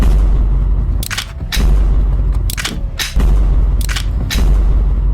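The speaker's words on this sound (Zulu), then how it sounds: "Manje ufuna ukudubula." Gunshots in a comedic family skit: a series of sharp, loud bangs, some in quick pairs, spaced irregularly over steady background noise.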